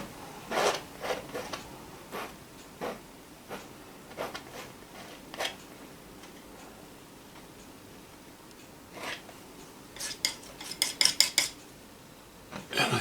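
A metal painting knife is picked up and handled while a bright sky is painted, giving scattered light clinks and taps, close but quiet, with a quicker cluster of clicks near the end.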